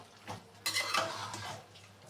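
Greens with a little sour yogurt are stirred in a pan, a few soft scraping and clinking strokes of a utensil against the metal, close and quiet, with no talking.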